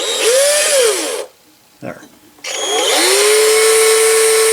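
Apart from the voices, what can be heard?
drill turning a horizontal steam engine for a test run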